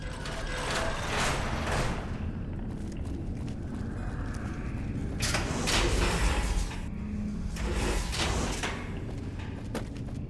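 A door opening in the video game Fallout: New Vegas: a long mechanical grinding and ratcheting rumble with gear-like clanks, steady and loud throughout, no voices.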